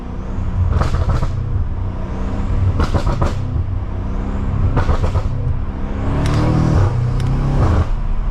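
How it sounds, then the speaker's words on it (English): A BMW M performance car with downpipes and a front-mount intake, factory tune, crackles and burbles through its exhaust in several bursts on downshifts over a steady engine drone, loud and close from inside the cabin on a backroad drive. "Keep in mind, guys, those are the factory burbles."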